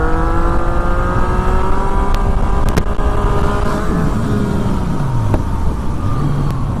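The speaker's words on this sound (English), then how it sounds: "I'm going to pull in the clutch, give it a little more gas because it's a very powerful bike" A powerful Yamaha FZ-09 motorcycle revs hard with the clutch slipped for a wheelie, its engine note loud and close, rising and falling in pitch as the throttle is worked, with a few sharp clicks.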